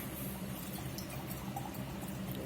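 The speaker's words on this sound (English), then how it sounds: "Pour us up a little of this wine." Wine pours steadily into a glass for a couple of seconds, a soft continuous splashing trickle close by.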